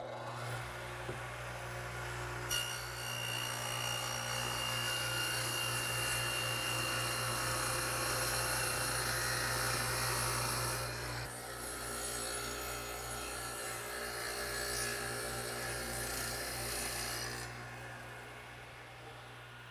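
A radial arm saw cuts a groove about 1/4 inch deep and 3/4 inch wide in a 2x4 for a workbench, giving a sustained whir with a rising, steady cutting roar that eases off and then runs again before winding down.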